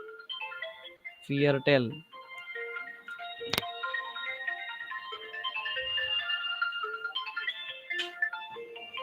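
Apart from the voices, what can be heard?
phone ringing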